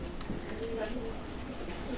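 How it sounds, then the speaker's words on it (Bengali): Several pigeons in a loft coo softly and continuously, mixed with a low murmur of voices and steady background noise. "এখানে পাঁচ পিস কবুতর আছে"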